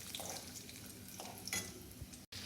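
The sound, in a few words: sauteing with sugar in a pan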